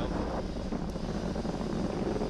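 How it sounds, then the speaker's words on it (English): SpaceX Falcon 9 rocket engines roar during launch as stage one throttles down near maximum dynamic pressure, a distant, steady broadband rumble with wind-like hiss and no break. "Falcon 9 engines throttling down to help pass through the period of maximum dynamic pressure"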